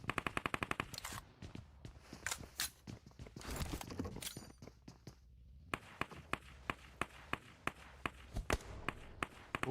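Automatic rifle sprays in PUBG Mobile on Erangel, rapid bursts of sharp close shots in quick rattling strings, pausing then resuming as evenly spaced single cracks, with no talk over them.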